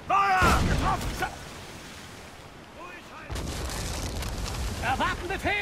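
Ship cannons fire in a naval battle in Assassin's Creed IV Black Flag, a loud boom opening the stretch and another blast later, with shouted crew commands over the rumble.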